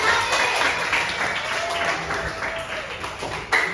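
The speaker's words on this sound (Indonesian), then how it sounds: "Good job ya, tepuk tangan untuk" A class applauds a student, a brief, moderately loud round of many hands clapping that carries on unevenly for a few seconds, with a sharper burst near the end.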